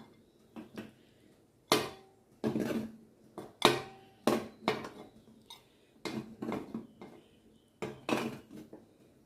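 Kappa puttu, a Kerala steamed tapioca dish, moved onto a plate: a string of sharp metallic clinks and scrapes of utensils against dishes, irregular and close, with quiet pauses between the knocks.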